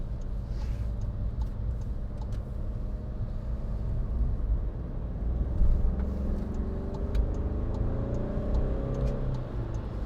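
A 2016 Skoda Fabia 1.4 TDI Monte Carlo diesel drives at speed, giving a steady, moderately quiet engine and road drone from inside the car, with no talk.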